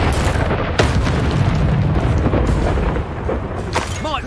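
Fiery Confringo spell blasts from the Hogwarts Legacy game on PS5, a dense run of booming bursts over rumbling combat noise, with a sharp crack near the start and another flare late on, loud throughout.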